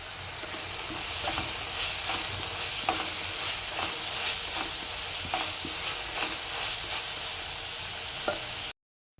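Curry leaves sizzle in hot oil for a Kerala-style chicken curry, a steady close frying hiss broken by regular scraping stirs of a spoon through the pan.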